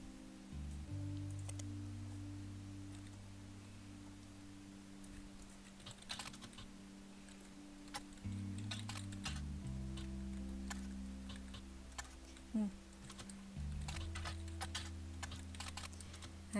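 Computer keyboard keys pressed while playing The Roottrees are Dead: quiet, close clicks arriving in irregular bursts and single taps over a soft, steady game music bed.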